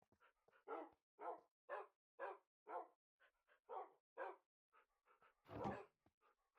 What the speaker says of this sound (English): Why are you barking so much?